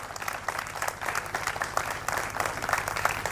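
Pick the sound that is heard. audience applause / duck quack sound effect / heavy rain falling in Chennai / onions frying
audience applause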